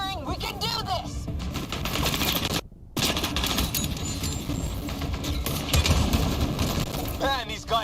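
Automatic gunfire in the video game Mass Effect Andromeda, rattling in rapid, sustained bursts over a chaotic battle, with a short silent break and voices shouting over the shooting.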